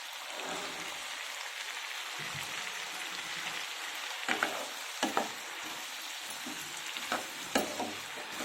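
Fresh green peas frying in hot oil in a pan for vegetable pulao, a steady crackling sizzle with intermittent sharper pops and stirring clatter, close and continuous.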